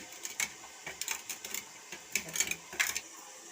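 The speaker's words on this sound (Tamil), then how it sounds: "வெந்தயமும் கடுகு பொடி பண்ணிக்கிறேன்." Fenugreek and mustard seeds being ground into powder, heard as a series of short, dry clattering and whirring bursts with brief pauses between them, moderately close.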